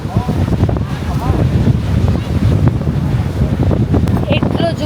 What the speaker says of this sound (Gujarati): એટલો જોરદાર પવન છે કે આ પવનમાં હું ખુદ ઉડી ના જાઉં ને તો સારું.